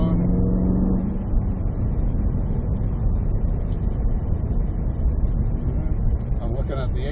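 A car engine drones steadily from inside the cabin as it accelerates on a track, a loud, continuous low rumble with a muffled voice over it.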